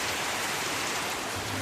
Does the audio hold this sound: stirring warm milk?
no